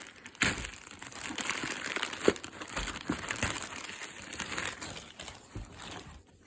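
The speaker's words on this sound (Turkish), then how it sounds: "Şimdi istedim ki beraber açalım bu paketi." Plastic wrapping of a Galatasaray prize package crinkles and crumples as it is torn open, a steady rustling close to the microphone with a few sharper crackles and no talking.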